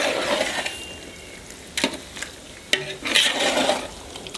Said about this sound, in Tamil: மசாலா கறியில் நல்லா மிக்ஸ் ஆகணும், நல்லா கிண்டும்.